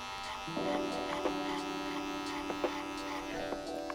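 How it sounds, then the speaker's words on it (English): Wahl Senior electric hair clippers with the lever fully open, buzzing steadily and close while cutting hair, a continuous motor hum with small bumps as the blades move through. "I'll be using my wall seniors to create my next guideline"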